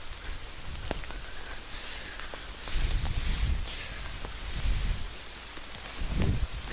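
Steady rain patters across a forest, soft and continuous, with a few louder rustling swells.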